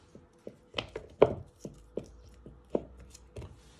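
A knife chops bell pepper on a cutting board in a quick series of about ten crisp, close knocks, some in fast pairs, clear with no talking.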